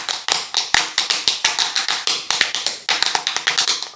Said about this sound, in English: those beads actually make the sound they hit on this cardboard